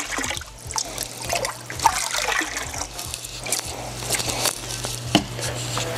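Diluted hydroponic nutrient solution is poured from a beaker into a grow-room reservoir tank, giving a steady, close splashing trickle with a few louder sloshes across the pour.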